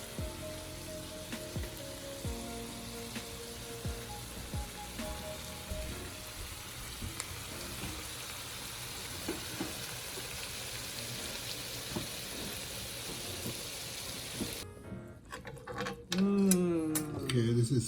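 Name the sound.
ackee and saltfish simmering in a pan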